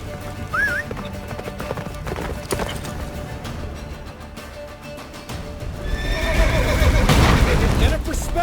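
Roach, Geralt's horse in The Witcher 3, gallops with rapid clip-clop hoofbeats and whinnies loudly, the galloping building toward the end amid game music and a shouted voice.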